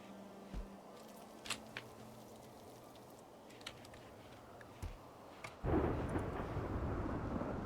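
A thunderstorm in a video game, with faint clicks and pops over a low, steady background, then a loud surge of rumbling rain-like noise near the end.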